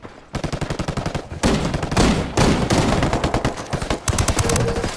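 Rapid automatic gunfire in Ghost Recon Wildlands player-versus-player combat, loud close bursts of sharp rattling shots broken by brief pauses, with several overlapping weapons firing.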